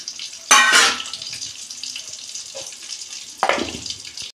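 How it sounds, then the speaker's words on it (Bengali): Water poured from a container onto cut tomato and green chillies before grinding them into a paste, heard as two short splashy pours, close and fairly loud, with quiet kitchen sounds in between. "অল্প জল দিচ্ছি, পেস্ট করবো।"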